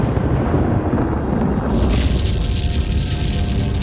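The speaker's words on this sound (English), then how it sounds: "explosions rip from the cone, sending a hail of marble-sized debris miles into the sky." Volcanic explosions rip from a cinder cone, a loud, deep, continuous rumbling roar with dense low booming bursts and a brighter hissing blast rising in the second half; no voices.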